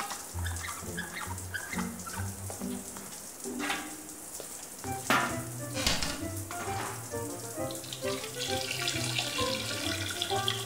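Cartoon shower water runs steadily, a hissing splashing spray that carries on beneath bursts of animated sound effects and music, with no voices.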